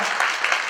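Brief burst of audience applause at a Woman of the Year award announcement, a short dense wash of clapping from a crowd.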